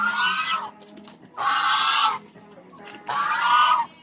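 Geese honking loudly in three long, harsh bursts close by on a rural farm, with quiet gaps of background noise between the calls.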